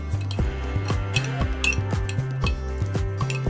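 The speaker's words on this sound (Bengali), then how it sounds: "খুব ভালো করে মিশিয়ে নিচ্ছি।" A spoon stirs sugar into a mixture in a bowl, with a steady rhythm of clinking taps against the side, close and clear with no talk.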